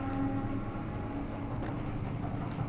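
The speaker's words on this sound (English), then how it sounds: "there's another train going past. They're so incredibly loud" A train passing outside, heard indoors as a steady low rumble with faint tonal hum, fairly quiet and continuous with no voices.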